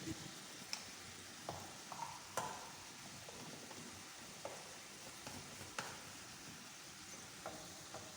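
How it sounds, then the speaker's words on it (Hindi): Green beans and chopped green chili fry in a pan with salt, a faint continuous sizzle marked by occasional light stirring scrapes and taps. "इसको भून लेते हैं, मसाले को तैयार करते हैं।"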